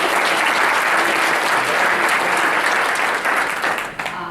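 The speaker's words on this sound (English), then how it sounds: "give you guys another round of applause for this event" Sustained applause from a large crowd at a cannabis policy panel event, dense steady clapping that fills the space for several seconds before tapering slightly at the end.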